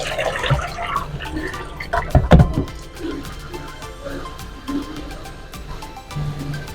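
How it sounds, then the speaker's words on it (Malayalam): Water splashes and pours out of a bowl of tomatoes being washed in a kitchen, a few sloshing bursts with dripping in between, heard alone without talk. "ഈ വെള്ളം അങ്ങ് കളയാം."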